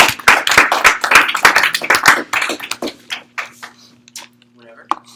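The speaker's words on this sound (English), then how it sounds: "let's give a huge, huge" An audience claps in a lively burst of many overlapping hand claps that thins out after about three seconds, with voices talking over and after it.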